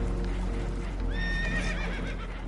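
Horses in the Red Dead Redemption 2 video game whinny in distress aboard a boat taking on water, a shrill rising neigh in the middle over a steady low rumble of water and ambient noise.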